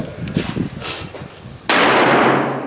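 A small black-powder cannon chambered in .45 Colt, loaded with fine early-century hunting black powder, fires one loud blast near the end, its roar decaying slowly after low chatter and movement outdoors.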